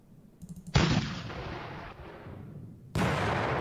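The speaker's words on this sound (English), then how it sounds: "Tanks firing." Tanks fire in the Panzer Campaigns Kiev 43 wargame: a loud deep cannon boom with a long rumbling decay, then a second heavy blast near the end, preceded by faint mechanical clatter, with no talking.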